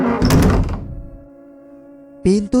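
A door thuds shut suddenly in a horror story scene, one heavy thunk after a shout, followed by a lingering tonal drone and then a short burst of voice at the end.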